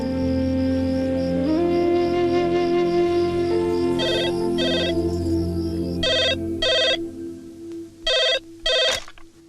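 A telephone rings in short repeated double bursts, loud and close, over a background music score in a domestic drama scene.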